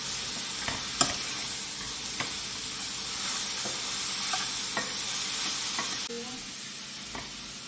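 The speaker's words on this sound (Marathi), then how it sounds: "भाजी हलवून घ्यायची" Vegetables stirred in a hot pan for veg momos filling, a steady sizzle with repeated scraping strokes of the spoon, loud and close with no talking.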